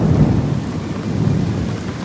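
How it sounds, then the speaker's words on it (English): Heavy rain pours steadily outdoors at a theme park, a dense continuous wash with low thunder rumbling beneath it, loud and unbroken with no voices. "But right when I came out, it started pouring"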